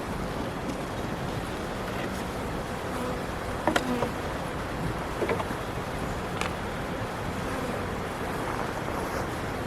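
A steady, dense hum of many honey bees buzzing close by during installation of a nuc into a hive, with a few brief louder knocks and clicks standing out partway through.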